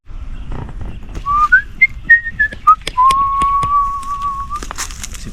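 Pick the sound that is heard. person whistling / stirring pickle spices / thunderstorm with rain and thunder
person whistling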